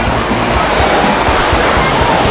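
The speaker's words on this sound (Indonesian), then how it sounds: "Aku lihat sih ombak hari ini cukup lumayan besar ya." Large ocean waves breaking and washing continuously, a broad steady roar of surf close by with no clear gaps between swells.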